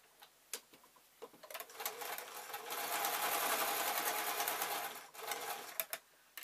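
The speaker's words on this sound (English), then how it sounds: "I'm going to do a good couple of reverse and stitches over this just to keep it nice and secure" A sewing machine running back and forth over satin apron fabric, speeding up into a steady whirring run, then stopping and restarting with short bursts and clicks, close and quiet, with no talking.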